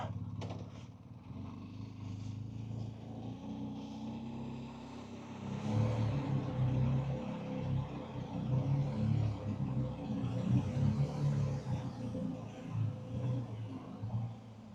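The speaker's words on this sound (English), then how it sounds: "it's Pete's bike" A motorcycle runs along a mountain pass, its engine a steady low rumble that swells louder partway through, with wind noise and no clear speech.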